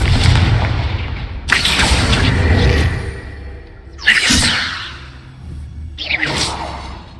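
Confringo explosion spell cast in Hogwarts Legacy: three loud blasts with whooshing bursts, each swelling and fading over a low rumbling bed, spaced a couple of seconds apart.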